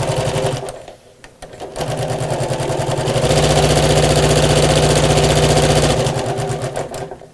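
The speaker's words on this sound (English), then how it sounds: "then I'm going to sew all the way around the edge of the box" A sewing machine running a small 2.2 stitch around the edge of a messenger bag whirs with a fast, steady mechanical rhythm that stops briefly and then runs loud and continuous up close.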